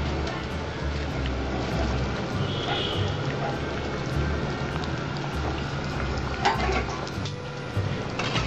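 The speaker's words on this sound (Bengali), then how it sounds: "আমার ঝোলটা 10 মিনিটের মতো ফুটবে" A Bengali-style boal fish curry broth bubbles on the stove at a steady, even boil, a dense close simmering wash that continues throughout.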